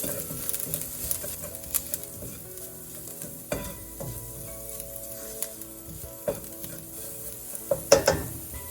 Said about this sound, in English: now saute with onion for some time